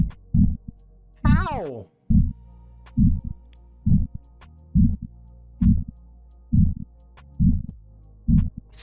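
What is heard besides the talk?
tiny fish pulsing sound, ribs striking swim bladder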